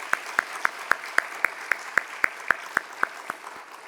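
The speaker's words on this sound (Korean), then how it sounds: "우리 다시 한번 박수로 감사드립니다." A church congregation claps after a band's special performance at an early-morning prayer service, producing a steady, evenly spaced run of sharp claps that sounds almost like unison clapping. It is fairly faint, with no talking over it.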